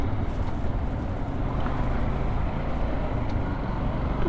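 A motorbike ride on a road, captured as a steady, unbroken drone of engine and wind rumble with no distinct events, moderately loud throughout.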